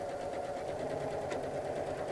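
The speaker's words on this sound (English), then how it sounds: "I'm going to lower the presser foot, and we're going to stitch it" A modern programmable sewing machine stitches fabric with the presser foot lowered, giving a steady, quiet whirring hum with faint rhythmic ticking that runs evenly and close by, with no talking.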